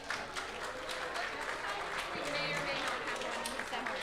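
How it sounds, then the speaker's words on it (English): Steady audience applause at an evening astronomy talk event, honoring the speakers and winners, with a sustained wash of clapping and voices talking over it. "a round of applause to our speakers and our winners"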